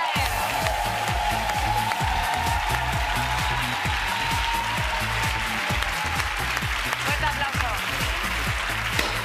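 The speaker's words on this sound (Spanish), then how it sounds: "Pues un fuerte aplauso para el ganador de Talent España" Studio audience at a television talent show applauds the winner with loud, dense, continuous clapping and some cheering, while a voice speaks over the ovation.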